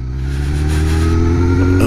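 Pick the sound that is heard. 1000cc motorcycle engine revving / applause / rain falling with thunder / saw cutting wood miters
1000cc motorcycle engine revving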